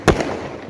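A single Diwali firecracker bursts with a sharp, loud bang, followed by a short echo and fading rumble. No voices are heard.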